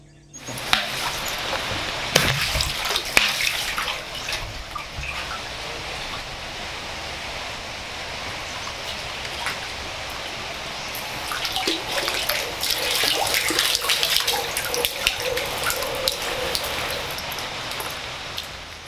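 Clean water at a garden well on a Konkan village farmstay in Vengurla, a steady broadband rush like pouring or running water that continues throughout, with a few brief splashy bursts and no talk.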